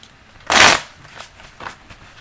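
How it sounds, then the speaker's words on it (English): A tarot deck is shuffled close by: one loud riffle burst, followed by two softer, brief card flutters. "3 more shuffles."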